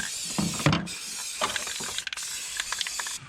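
Rust-Oleum spray paint hissing from an aerosol can onto rust spots on a truck, with short bursts of spray, rattly handling clicks and metallic knocks nearby.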